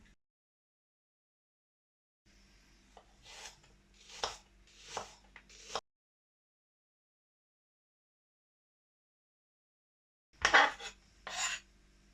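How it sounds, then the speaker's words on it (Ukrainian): A knife chops peeled apples into small pieces on a board for an apple pie, with a quick run of soft, close cuts, a long silent pause, then two more cuts. "Тепер будемо їх різати на маленькі шматочки."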